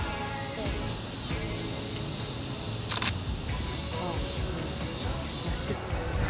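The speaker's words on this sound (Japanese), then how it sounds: "そう、しっかり降りんのよ、メカシャッターが。" A Nikon mirrorless camera fires its mechanical shutter once, giving a single sharp, close click midway through against a steady background hiss, with no talking.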